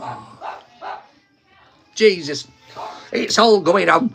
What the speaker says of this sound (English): now in the background you can hear the dog barking